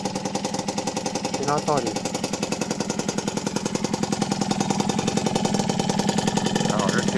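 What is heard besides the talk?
Motobécane 50 N moped engine running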